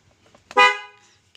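A single short horn blast from a repaired 2010 Daihatsu Xenia, a bright harmonic toot lasting about half a second, close by, with faint quiet handling noise before and after.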